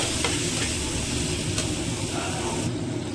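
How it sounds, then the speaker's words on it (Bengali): Sesame seeds are sautéed with a little water in a pan while cooking a sesame and snake gourd dish, making a steady, close, low sizzle. The sizzle runs evenly throughout with no talk. "এবার আমি তিলটাকে ভালো করে কষিয়ে নেবো"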